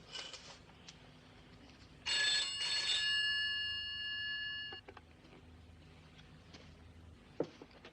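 A telephone bell rings once in a long, bright metallic trill lasting nearly three seconds, followed by a faint click and quiet room noise, with no one speaking.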